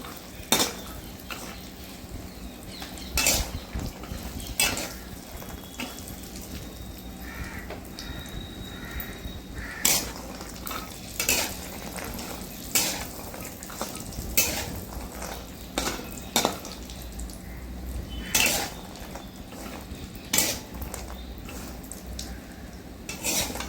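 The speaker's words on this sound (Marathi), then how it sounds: "बदाम पण चांगले फ्राय करून घ्यायचे तुपामध्ये" Almonds fry in ghee while a spoon scrapes and clinks against a metal pan in irregular, fairly quiet strokes, with a low, steady background hiss between the louder knocks and no one talking.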